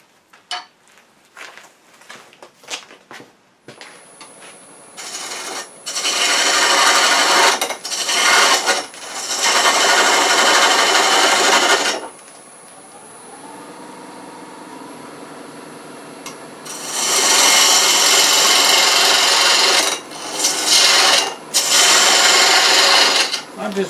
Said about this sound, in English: I'm going to use the spindle gouge to go ahead and start that shape.